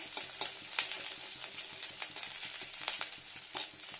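Chopped ginger frying in a pan, a soft continuous sizzle broken by regular scraping strokes from a spatula stirring the pieces, close and fairly quiet.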